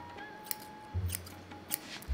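Scissors snip through hair during a haircut, several quick close metallic clicks scattered across a couple of seconds, with low rumbling handling noise and no talk.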